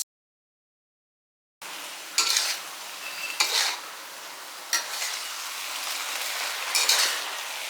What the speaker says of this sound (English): Cover and simmer for 2 minutes until the sauce thickens and the noodle is softened to your liking.